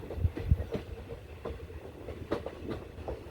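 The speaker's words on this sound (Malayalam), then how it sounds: "എടമൺ സ്റ്റേഷനിലേക്ക് ട്രെയിൻ എത്താറായിട്ടുണ്ട് കേട്ടോ" A train on the Kollam–Chenkotta line nearing Edaman station, with a soft steady rumble and repeated clickety-clack wheel beats close by, alone without talk.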